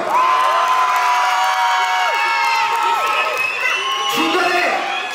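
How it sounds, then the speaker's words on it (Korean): A fan meeting crowd at a MOMOLAND event cheers and applauds continuously, with high-pitched shouts and whoops rising over the steady, loud roar. "박수 한번 부탁드릴게요"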